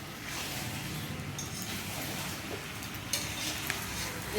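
Food sautés steadily in a pan at an outdoor picnic cooking session, with a continuous sizzle and frying hiss and a couple of faint clinks near the end.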